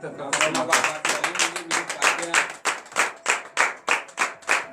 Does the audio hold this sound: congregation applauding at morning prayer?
yes